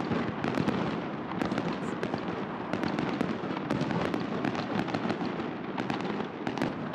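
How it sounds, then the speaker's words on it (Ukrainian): A festive fireworks display bursts opposite a hotel by Trukhaniv Island in Kyiv at night, a dense, continuous crackle of rapid pops and bangs, loud and sustained without any voices. "А о 10-й вечора навпроти готелю Струханова острова починає лунати святковий салют."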